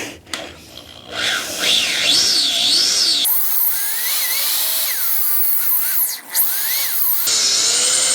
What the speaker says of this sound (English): This is aluminum, so it should drill fairly easy.